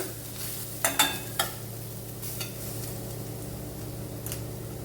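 Crushed coconut frying in a pan for a Kerala jackfruit erissery, with a steady low sizzle and a few sharp scrapes and clinks of a spoon stirring near the start, then a quieter continuous fry.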